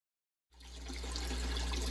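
Water runs steadily into a backyard pond during a water change, starting suddenly after a moment of silence and building into a continuous low rushing and splashing flow.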